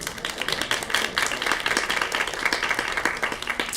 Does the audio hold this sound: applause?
yes